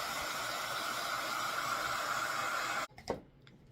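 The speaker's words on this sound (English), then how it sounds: "give it a quick dry with my craft gun" A craft heat gun blowing hot air over chalk paint on a jar, a steady close hiss and whir that cuts off abruptly near the end.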